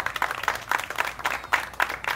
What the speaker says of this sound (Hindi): तालियां बजाओ आराम से।